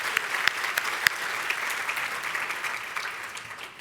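Brunch attendees at a Women United gathering clap, a few sharp individual claps standing out at first before the applause settles and gradually tapers off.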